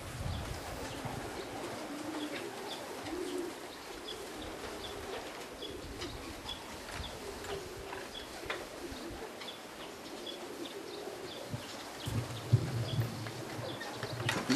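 Racing pigeons arriving at the home loft of a Polish club section in Żary, soft cooing and fluttering over a steady outdoor background, with occasional light knocks and a louder burst near the end.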